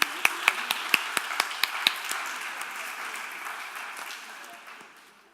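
Audience applause at a conference quiz prize announcement, opening with a few sharp, separate claps and then settling into a dense, steady patter that slowly fades over several seconds.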